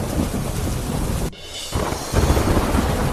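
Heavy rain pours in a dense, loud hiss with deep thunder rumbling through, during flooding from a swollen river in Gujarat. The roar breaks off briefly in the middle before surging back.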